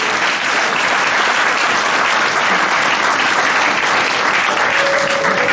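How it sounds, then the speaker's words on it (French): A church congregation applauds and cheers loudly for the Lord, a dense, steady wash of clapping and acclaim that fills the whole stretch, with a brief whistle-like tone near the end. "On peut acclamer très fort le Seigneur."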